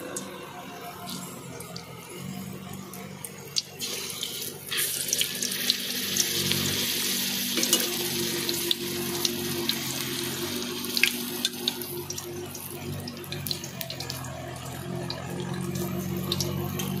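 Palm fruit malpua batter hits hot white oil in a kadai over a lit stove, giving a steady, bright sizzling hiss that swells after a few seconds and holds for the rest of the stretch without a break.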